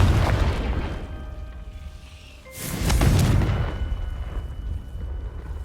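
A Confringo fire spell from Hogwarts Legacy bursts with a loud booming blast midway through, rumbling and decaying over a few seconds above a steady low game background.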